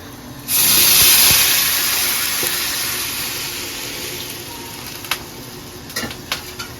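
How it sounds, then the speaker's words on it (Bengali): Water is poured into a pot of pulao rice: a loud rushing pour starts abruptly, gradually thins and softens, and a few light clinks follow near the end. "পানিটা দিয়ে"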